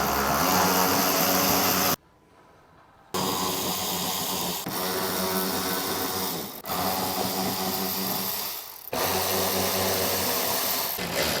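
Power tool whirring steadily as bolts are tightened on a GR Corolla EOS lip kit, running in long sustained bursts with a few brief pauses, close and loud.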